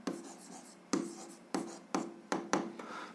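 Pen or marker strokes writing an algebra equation, heard as about six close, crisp tapping scratches at uneven intervals over a quiet background, with no talking.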